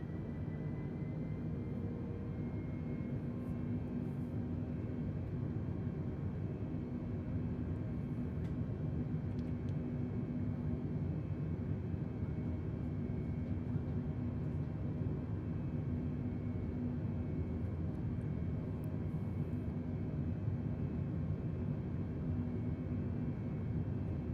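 United Airlines airliner engines run at full takeoff throttle, a dense, unbroken roar and rumble heard from inside the cabin, constant and moderately loud for the whole stretch.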